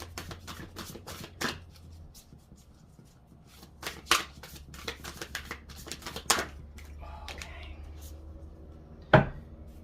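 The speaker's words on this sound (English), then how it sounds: "these cards are a little big for my hands" Large oracle cards being shuffled by hand, a string of crisp riffling and slapping bursts that come in irregular clusters, with one sharp louder snap near the end and no talking.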